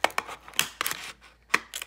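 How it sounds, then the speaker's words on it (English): Scissors snip at a plastic zip tie during an unboxing, with several short, sharp clicks and cuts spaced irregularly and heard up close. "I'll just use my scissors."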